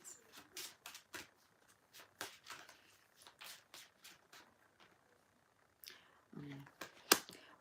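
A series of quick papery riffles and snaps of cards being shuffled, close and moderately loud, repeating in bursts with a short pause in between.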